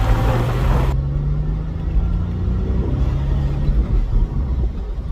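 A used car's engine rumbles loudly and steadily as it accelerates toward 6,000 RPM, its drone shifting pitch as the gears change, heard close with no talking.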